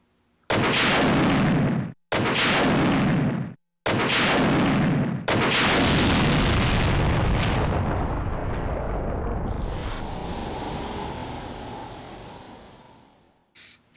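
Rocket launcher blasts in the video game Resident Evil 2: three loud booming shots in quick succession, then a long rumbling explosion that slowly decays, ending in a faint high hum.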